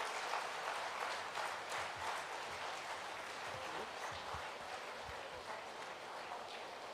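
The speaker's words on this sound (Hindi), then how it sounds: "सबसे अनुरोध है जोरदार तालियां बजा करके" Sustained applause fills a large political gathering at a Congress party conclave, a dense wash of clapping hands that continues steadily throughout at moderate loudness with no speech over it.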